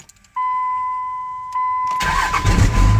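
A pickup truck engine with a freshly repaired starter cranks briefly, then catches and starts, settling into a loud, steady run with a strong whine from the starter and engine, alone and close by.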